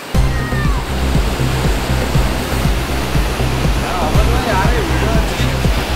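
Floodwater rushes over a road after heavy rain in Hyderabad's Baba Nagar area, a loud, continuous roaring wash close by, with a faint voice briefly audible beneath it.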